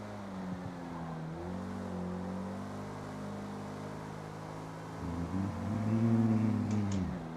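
A twin cam car engine climbing a mountain road hums steadily under load, rising in pitch as it revs and shifts near the end, with no talk.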